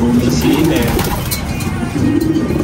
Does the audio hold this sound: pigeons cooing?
yes